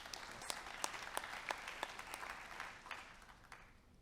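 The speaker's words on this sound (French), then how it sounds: "On peut l'applaudir et il faut l'applaudir." Conference audience clapping at an investment forum on tourism and hospitality, a steady patter of applause with sharper individual claps, moderately distant and gradually fading toward the end.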